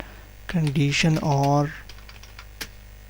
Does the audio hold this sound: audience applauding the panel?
no